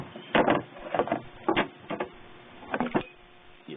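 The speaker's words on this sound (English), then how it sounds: "Lift it up just enough for me to get my ratchet down there." A 1/4 inch drive ratchet with a deep-well socket working on the thermostat of a 1977 Cadillac coupe, several short clusters of rapid clicks separated by pauses.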